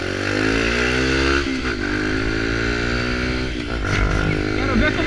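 A Kawasaki Ninja motorcycle with a sport exhaust, straight pipe only, revs hard up close, a loud sustained engine drone with repeated throttle blips and rising and falling pitch.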